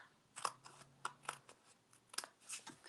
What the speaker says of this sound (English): So now I'm just going to cut this off, or you could use your trimmer if you want to be precise.